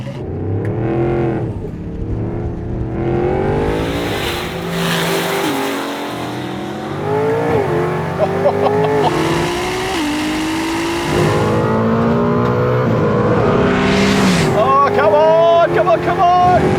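A Ferrari 296 GT3 and a 1200hp RAM TRX drag race, their engines roaring through repeated rising gear pulls that grow steadily louder, with excited voices talking over the din.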